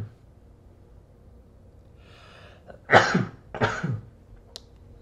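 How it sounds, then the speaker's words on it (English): One person sneezes, a sharp close burst after a quiet lead-in, followed by a second breathy snort, all in a quiet room. "I'm gonna sneeze really quick"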